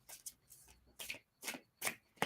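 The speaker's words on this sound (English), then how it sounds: "I can't stop shuffling." A tarot card deck is shuffled by hand in short, crisp riffling bursts, about five or six quick flurries separated by brief pauses, close and quiet.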